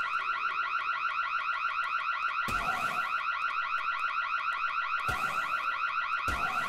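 A repeating electronic alarm in the survival horror game Night of the Dead, going off inside an oil refinery, wails in a steady fast pulsing loop, loud and close, with a few sharp thuds cutting in partway through.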